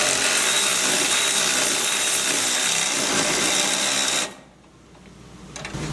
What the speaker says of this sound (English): I'm going to go ahead and tighten them up just a little bit